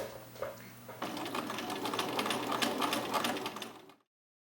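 A sewing machine stitches fabric bag pieces for a boro-inspired reversible loop bag, with a short start followed by a close, fast, even run of needle chatter that then stops.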